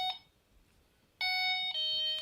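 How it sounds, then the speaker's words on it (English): A Delkim fishing bite alarm gives a short high electronic tone, pauses, then sounds again in a sustained loud beep that steps slightly lower in pitch near the end, clear and close. "And then I'll activate the alarm."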